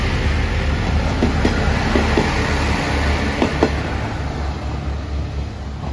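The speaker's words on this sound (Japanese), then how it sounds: "阿波池田駅14時30分発アンパンマンカー特急剣山8号" The JR Shikoku Anpanman-car limited express Tsurugisan No. 8 runs past from Awa-Ikeda, a loud continuous rumble of wheels on rail with faint periodic clicks and no talking.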